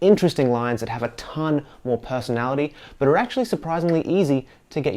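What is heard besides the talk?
None of the usual background noises is heard.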